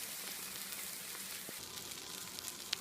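Salmon sizzling on an oiled grill: a steady, close hiss of frying with faint crackles and one small pop near the end.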